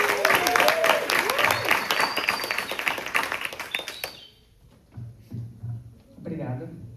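A lecture audience gives warm, loud applause with some cheering to welcome a speaker, then the clapping cuts off and a few quieter voices and movements follow.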